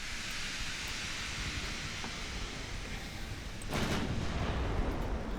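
Warship guns booming in the naval strategy game Ultimate Admiral Dreadnoughts, heard as a steady rumbling wash of distant battle noise that swells louder partway through, with no talk.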